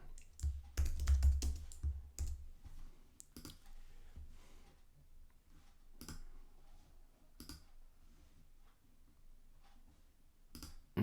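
Someone types on a computer keyboard in short bursts of close key clicks, a dense cluster early on and then sparser taps spread across the rest, with no talking.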